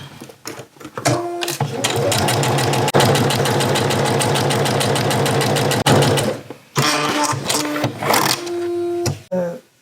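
A sewing machine stitches fabric in fast, even bursts of mechanical clatter, running loudly and continuously for several seconds, pausing briefly, then running again in shorter spurts.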